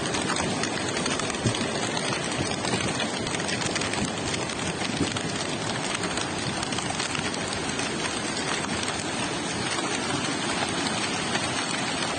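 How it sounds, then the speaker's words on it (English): Heavy rain pours down across flooded streets in Dallas, Texas, a dense and unbroken wash of loud hiss with splashing, and no voices. "Heavy rains flooded streets in Dallas, Texas."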